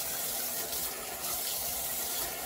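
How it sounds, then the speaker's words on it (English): Warm tap water runs in a steady, even gush into a sink for rinsing a face, continuous and close with no talking. "So I'm going to rinse my face first"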